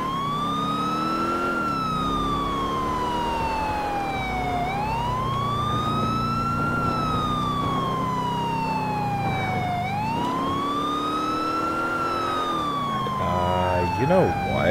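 Wailing police car siren in Grand Theft Auto IV, a loud rising and falling tone sweeping slowly in long cycles over engine and traffic noise, with a faster warbling burst at the end.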